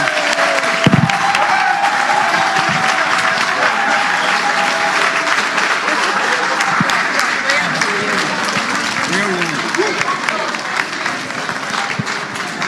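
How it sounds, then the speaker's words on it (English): Conference audience at a political party delegates gathering applauds in a long, dense wash of clapping with some cheering, steady and loud for the whole stretch, voices faintly mixed in. "Let's give Honorable a big hand of applause again."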